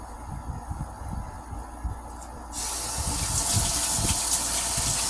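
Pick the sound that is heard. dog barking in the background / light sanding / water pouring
water pouring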